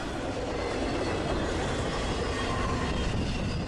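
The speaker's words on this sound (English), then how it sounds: "The train is passing under Route 31." A long freight train, an intermodal with autoracks led by a triple header of an ES44DC, a Dash 8 and a Dash 9, rolls steadily past near a highway overpass, a loud continuous rumble of wheels and cars with no talk.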